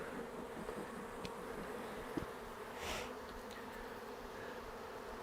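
Honey bees buzz steadily in a hive being smoked during early-spring brood box rotation, a dense continuous hum at close range with a few faint knocks, no voices.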